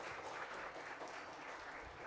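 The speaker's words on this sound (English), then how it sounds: "I ask for a round of applause for this panel" Steady applause from a conference audience thanking a panel on energy transition and green hydrogen, a continuous patter of many hands clapping at moderate volume with no voices over it.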